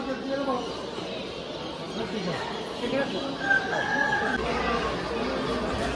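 Chickens cluck and a rooster crows amid a busy poultry market in Bursa, with people talking in Turkish in the background throughout.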